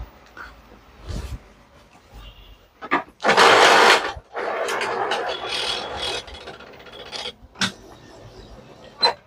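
An Epson L15150 printer powers up after being switched on, giving a series of mechanical whirs, clicks and a loud burst of motor grinding, with intermittent bursts of varying length rather than a steady run.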